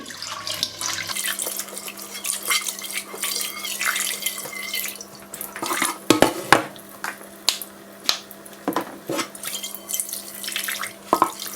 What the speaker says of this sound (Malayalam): ഒരല്പം വെള്ളം ഒഴിച്ച് സാവധാനം വെള്ളം ഒഴിച്ച ശേഷം നമുക്ക് ഇതുപോലെ നമുക്കൊന്ന് വാഷ് ചെയ്യാം.